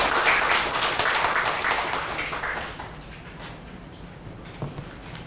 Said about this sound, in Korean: 다시 한 박수 좀 부탁드리겠습니다